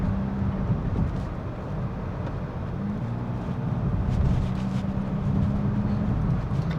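A Honda Amaze car accelerating on a patchy road near 2500 rpm, heard from inside the cabin as a steady low engine and road drone that rises slightly partway through, with no speech.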